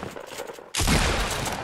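Gunfire in Fortnite Battle Royale: after a quieter stretch of game noise, a loud, dense burst of rapid shots starts suddenly and continues without a break to the end.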